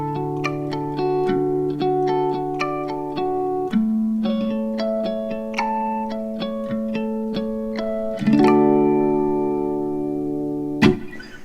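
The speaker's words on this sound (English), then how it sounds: "A harmonic on the guitar sounds like this." Bell-like guitar harmonics ring out one after another, each chime sustaining with shimmering overtones, with a few louder clusters struck together near the end; clear and close with no talking.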